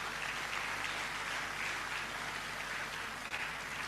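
A crowd of newly inducted professionals at an induction and investiture ceremony claps for themselves, a faint, even patter of many hands heard from a distance, steady for the whole stretch.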